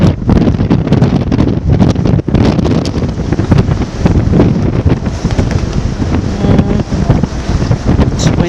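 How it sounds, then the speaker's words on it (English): Strong wind roars across the deck of a ship in Antarctica, buffeting the microphone with steady, loud, gusty rumble and broadband hiss that persists throughout, with no clear voices. "It's windy."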